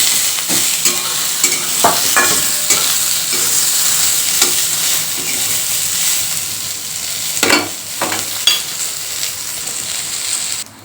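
Onion frying in a pan over a high gas flame gives a steady, loud sizzle, broken now and then by scraping stirs and light clinks of the utensil against the pan.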